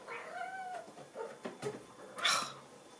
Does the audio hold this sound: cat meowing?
yes